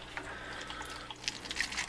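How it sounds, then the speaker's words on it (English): Water drips and trickles from aquarium gear lifted out of a betta fish tank during cleaning. The soft splashes are quiet, with a few clearer drops toward the end. "We're dripping, we're dripping."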